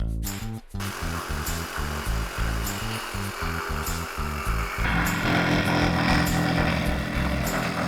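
A power saw cuts a traced piece for a production van rebuild, a loud steady whining buzz with a rapid chattering rhythm that thickens into a heavier grinding roar partway through.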